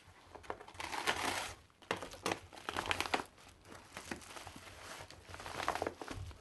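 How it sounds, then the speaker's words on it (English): Paper packaging around a brown Midori Traveler's Notebook is cut and crinkled during unboxing, a close, continuous rustling and crumpling with scattered crisp crackles and tears, quiet and with no talking. "Lots of paper sounds."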